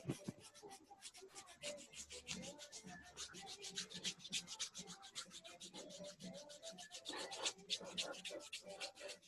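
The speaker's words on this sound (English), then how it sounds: "just trying to get as much speed with your rub as possible" Hands rub quickly back and forth along a bare arm, making a fast, steady series of soft, close, dry swishing strokes with no talking.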